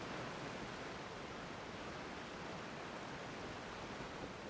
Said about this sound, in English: There are waterfalls over.